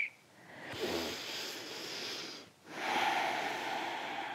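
Slow, audible breaths during the corpse pose Shavasana in a yoga session: a long airy inhale, a brief pause, then a fuller exhale, close and fairly soft.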